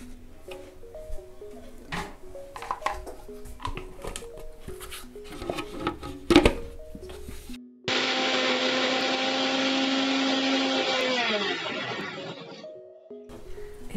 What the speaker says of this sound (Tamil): இதை மூணையும் ஒன்றா சேர்த்து இப்போ மிக்சியில் அரைச்சிக்கலாம்.